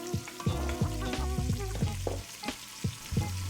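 Diced onion frying in bacon fat in a pan, a steady close sizzle broken by several sharp scraping stirs of a utensil, with no talking.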